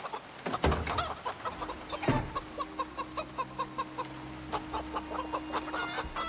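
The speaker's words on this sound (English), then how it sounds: "the birds are getting stressed, because of course they are" Stressed chickens in the Project Zomboid survival game give a string of rhythmic, nervous clucks, loud and close, with a few sharper squawks at the start.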